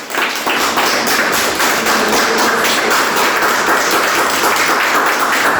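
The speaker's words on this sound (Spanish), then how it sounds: "Fuerte aplauso." A church congregation claps loudly and continuously, a dense, even roar of hands from a large crowd that stays strong throughout with no talking.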